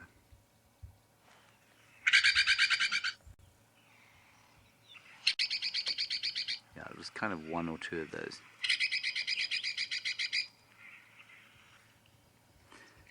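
A recording of a Bennett's woodpecker call plays back in a game reserve setting: three loud, rapid, rattling bursts of chattering notes, each roughly a second long, with a short spoken remark between them.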